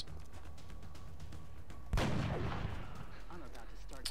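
A sniper rifle fires in the XCOM alien strategy game, one sharp loud shot cracking out about midway, then a rumbling echoing tail with faint game sounds afterward.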